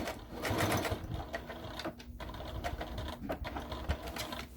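A Brother sewing machine runs steadily while stitching an armchair caddy, a continuous close mechanical whir with small clicks and shifts in pace throughout.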